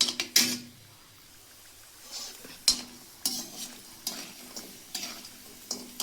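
Spices and turmeric roasting slowly in oil on a low flame, a faint sizzle under repeated sharp scrapes and stirs of a spoon against the pan at irregular intervals.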